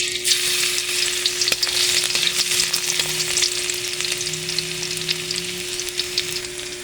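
Garlic frying in a generous amount of cooking oil until it turns brown, a steady close-up crackling sizzle with a few stirring scrapes, no voices, for a Filipino sampalok chicken dish.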